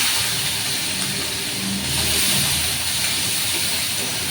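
Onion, dry chilli and nigella seeds sizzle in hot oil with a steady, loud, close hiss and crackle that carries on evenly throughout, with no voices over it.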